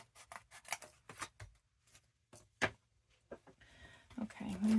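Scissors cutting fabric for a pin cushion, a series of close, crisp snipping cuts in irregular rhythm, followed by rustling handling noise and a faint tone at the end.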